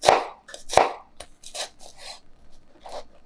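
A chef's knife cuts through a shallot on a cutting board, with a few crisp, close chops and slices spaced irregularly, the first two strongest, followed by lighter cuts.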